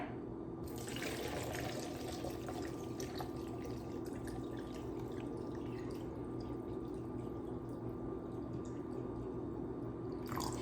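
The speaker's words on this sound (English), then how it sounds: "And then I'm going to add some water." Water poured into a juice jug while making guava juice, a continuous splashing, trickling stream that runs steadily at moderate volume for several seconds, close by and without talk.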